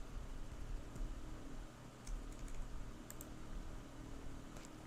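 Computer keyboard being typed on in irregular bursts of soft key clicks, fairly faint against a steady background hiss, with no talk.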